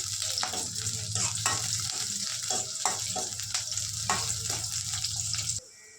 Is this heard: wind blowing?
no